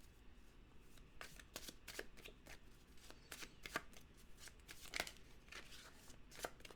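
Crisp, rapid riffling of tarot cards being shuffled, repeated in several bursts with short pauses, close and fairly quiet, no talking.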